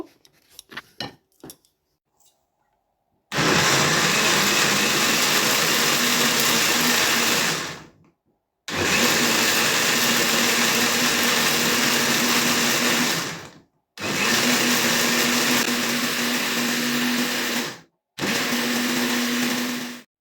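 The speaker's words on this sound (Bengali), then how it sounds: "এখন মিক্সিতে মিক্সচার করব" An electric mixer grinder blending egg, lentils, green chilli, coriander leaves, onion and salt, running loud and steady in four bursts of several seconds each, separated by short pauses, after a few soft clicks.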